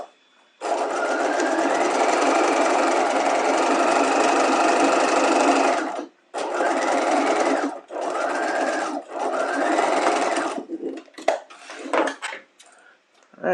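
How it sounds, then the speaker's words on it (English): Sewing machine stitching a quarter-inch French seam with back tacks at the start and end: a long loud steady mechanical whir, then several shorter bursts of stitching broken by brief pauses and clicks, close up with no talk. "now I'm going to stitch my 1/4 of an inch, and that will neaten up all the seam allowance like we want"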